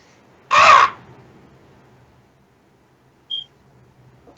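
A crow, apparently in a tabletop game setting, gives one loud, harsh caw close by, followed by brief faint clicks and a short high chirp amid near silence.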